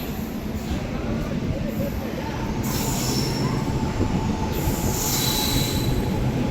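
Delhi Express train pulling into platform 1 at Guwahati station, its wheels squealing loudly and steadily over a heavy rumbling roll, with shrill high screeches rising and falling throughout.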